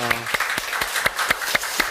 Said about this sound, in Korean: 찬양 받으신 하나님께 감사의 영광의 박수 올려드리겠습니다